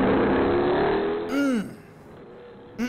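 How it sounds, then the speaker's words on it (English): A 2016 Ford Mustang GT350 engine revs hard in a single rising burst that quickly falls away. A faint blip follows at the end, with no talk. "we can hear what the GT500 replacement is going to sound like"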